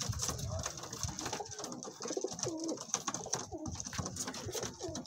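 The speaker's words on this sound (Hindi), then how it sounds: "नीला कबूतर है नीला, लाल आंखों में" Soft cooing of a blue pigeon with red eyes repeats under a busy outdoor background with faint voices nearby, low and throaty, steady throughout.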